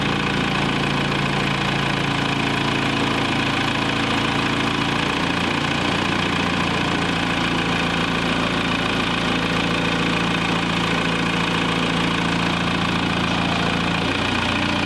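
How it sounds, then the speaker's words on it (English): A military-grade forklift engine runs at a steady loud idle. The heavy mechanical drone knocks and vibrates, with a slight shift in pitch partway through and no talk. "Let's start it up."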